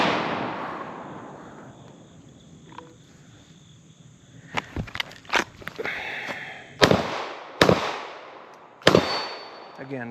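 Gunshots at a shooting range with cardboard USPSA and steel targets. A few quieter cracks give way to three loud, sharp reports spaced a second or so apart, with no talking.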